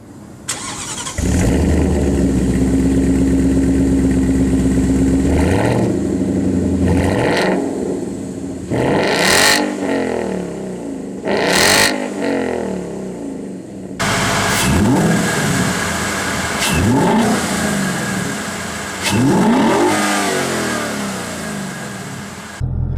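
A 2017 Ford Mustang GT with Roush bolt-ons, rated at 480 horsepower, starts up and idles, then revs repeatedly in sharp loud bursts that rise and fall, close and alone without voices.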